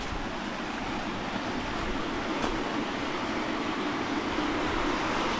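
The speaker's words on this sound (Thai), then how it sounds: "ได้ยินเสียงน้ำที่สวยมากนะ" Sea waves below a viewpoint in Phuket, Thailand, make a steady, even roar mixed with wind rushing across the microphone, with no one speaking.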